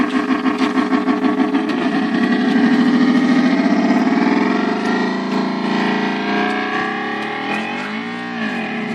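Electric motorbike fitted with an engine sound effect system, giving a synthetic, distorted motor drone that pulses rapidly at first, then rises and swells in pitch as the throttle opens, steady and loud throughout with no talking.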